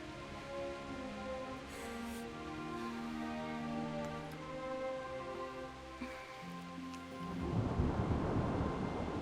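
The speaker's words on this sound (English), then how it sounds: "Not afraid of thunderstorms, are you?" Rainy thunderstorm in the video game Kingdom Come Deliverance, a low steady wash under sustained tonal music, with a louder burst of rumbling rain and thunder swelling near the end.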